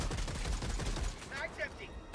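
Rapid automatic gunfire from a Minecraft-style video game blasts for about a second until the magazine runs dry, followed by scattered chirpy electronic tones.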